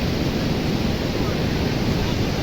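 Sea waves rolling in at a beach in Vasco da Gama, Goa, heard as a loud continuous wash of surf mixed with wind buffeting the microphone.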